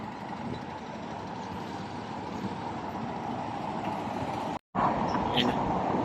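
Street traffic idles and rumbles at a stoplight, a steady broad roar of engines and heavy vehicles close by, briefly cut off for a moment near the end.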